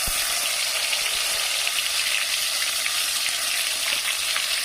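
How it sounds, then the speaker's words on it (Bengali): Spice paste frying in oil in a pan on the stove, a steady close hiss and sizzle with faint stirring scrapes, no speech over it. "এবার এখানে গ্যাসটা নর্মালে রেখে মশলাটা ভালো করে কষে নেবো।"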